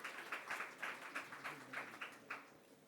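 An audience claps in brief applause at an event celebrating Prime Minister Narendra Modi, a quiet, rhythmic patter of hand claps heard from a distance.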